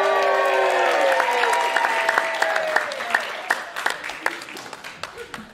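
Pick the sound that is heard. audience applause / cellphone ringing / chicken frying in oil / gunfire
audience applause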